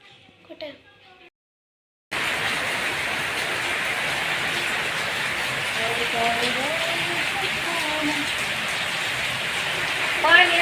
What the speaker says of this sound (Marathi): पाऊस तर असणार जबरदस्त पडलाय ते काय सांगायची सोय नाही ना अजून पण पडतोय